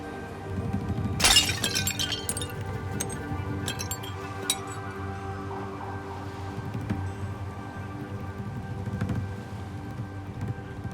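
Glass shatters once near the start with a sharp burst of breaking, and fine clinking pieces scatter and settle afterward over a low ambient rumble.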